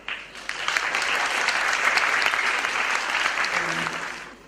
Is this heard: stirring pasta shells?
no